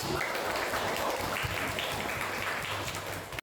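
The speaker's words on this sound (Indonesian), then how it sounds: "Ada tepuk tangan untuk kita." Classroom applause during a lesson on plant parts and photosynthesis, a short burst of steady, moderately loud clapping from students.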